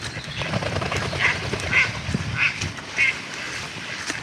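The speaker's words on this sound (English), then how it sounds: "there's a lot of ducks" Several ducks quack in a short series on a canal, four distinct calls spaced about half a second apart over a noisy outdoor background.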